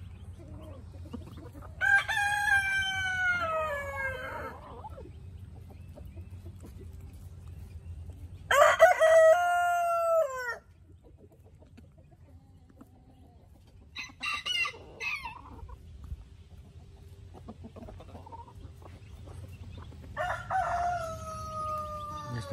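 Criollo hen and rooster on a farm: a rooster crows several times in long, loud calls spaced through the clip, with hen clucks between them and a low steady rumble underneath.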